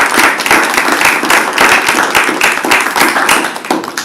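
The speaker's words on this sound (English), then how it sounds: "let's give Brett and his colleagues, his co-authors, a big round of applause" An audience at a scholarship award ceremony breaks into a sustained round of applause, with dense, steady clapping from many hands close by.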